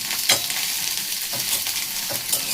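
Potatoes fry with turmeric in a hot pan, giving a loud, continuous sizzle with repeated scraping strokes as they are stirred and tossed.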